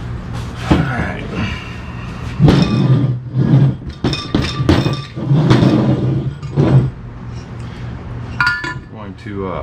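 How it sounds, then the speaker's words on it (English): Hammer strikes metal on an intake manifold being prepared for drilling and tapping, a series of sharp clinks and knocks in irregular bursts, fairly loud and close, with some background noise between hits. "and get my hammer real quick."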